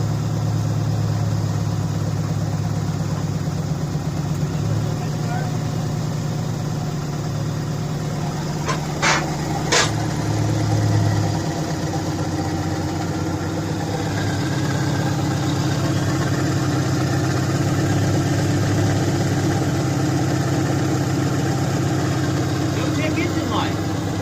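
A Subaru Impreza engine, freshly reassembled, idles steadily with a low, even rumble throughout, punctuated by a couple of brief clicks, while someone occasionally talks nearby.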